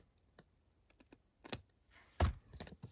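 Scissors trim modern book-page paper in scattered soft snips and clicks that grow louder toward the end, with one sharper cut, close and otherwise quiet.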